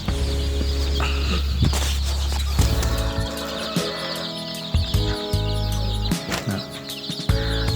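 Several chickens, part of a flock of over two hundred, cluck and squawk nearby on a farm, overlapping calls with scattered clatter and background farm noise throughout.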